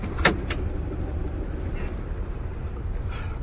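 From inside the cab of a moving truck, a steady low engine rumble and road noise fill the space, with a couple of brief sharp clicks near the start.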